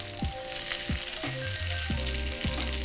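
Chilean sea bass browning in a hot pan, a steady bright sizzle and crackle throughout, with a few sliding scraping and tapping sounds as the fish is moved.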